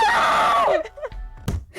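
A character's scream in the video game Sonic is Dead: one loud, high, wavering cry that drops off after under a second, followed by a few faint thuds and rustles.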